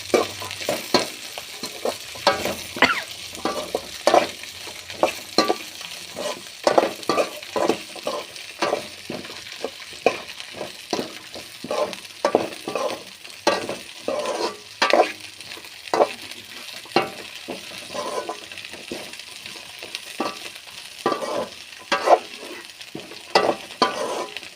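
Broad beans (avarakkai) stir-fried in a hot pan on the stove, a steady sizzle broken by repeated scraping strokes of a ladle, close and fairly loud with no talk.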